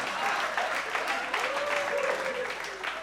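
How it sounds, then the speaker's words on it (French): Warm, sustained applause from an audience at a live comedy stage show, a full rush of clapping with a voice rising briefly over it. "On l'applaudit très fort."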